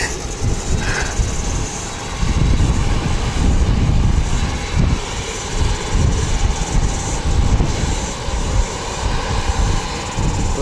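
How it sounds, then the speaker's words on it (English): Aircraft engines run at Wellington Airport: a continuous, loud, broadband roar with a whining turbine edge, steady throughout and heard without talk. "That's just the plane engines go on the left channel"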